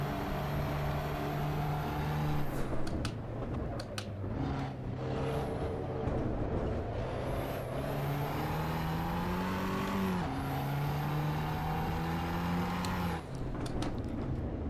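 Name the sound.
race car engine in Assetto Corsa EVO video game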